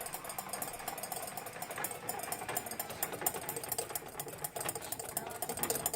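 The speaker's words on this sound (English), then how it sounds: "Just continue to whisk that." Hollandaise sauce being whisked by hand as it slowly thickens, a steady fast clicking and scraping of whisk against bowl running continuously at close range with no talk over it.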